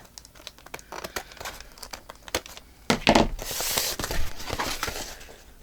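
Close, crisp snipping and crinkling of paper, with rapid irregular cuts followed by a longer rustling, tearing stretch.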